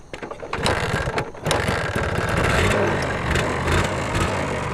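A motorcycle engine runs nearby with a rough, rattling rumble that swells after a brief start and then holds steady and loud, with no one talking over it.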